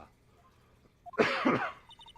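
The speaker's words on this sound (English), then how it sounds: "I was clearing my throat." A short, close throat clear in Phoenix Wright: Trials and Tribulations, a rough gravelly burst lasting about half a second, followed by a few soft electronic tones.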